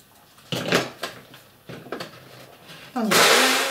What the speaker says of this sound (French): Et je ferme le petit mixeur blender.